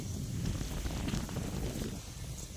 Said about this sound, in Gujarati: અત્યારમાં પવન પણ ઠંડો મસ્તીનો આવે છે